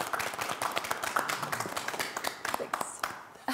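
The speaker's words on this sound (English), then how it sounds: "let's give Sandy a big round of applause" An audience gives Sandy a round of applause, a lively patter of hand clapping close by with voices mixed in, tapering off toward the end.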